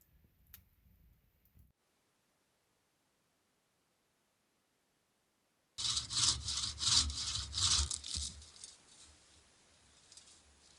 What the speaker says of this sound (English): So I'm just chipping away at these birch logs from my last trip.